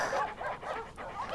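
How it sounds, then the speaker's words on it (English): Hounds in a night scene make close, sustained growling and whimpering dog sounds that rise and fall over a low background. "As the footsteps faded, the sound of growls grew louder."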